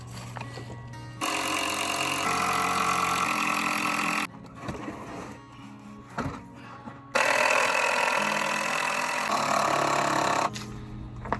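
A power drill drives screws, including 3-inch screws, into a wooden compost bin. Two long, loud whirring runs are separated by a quieter gap of handling noise and knocks.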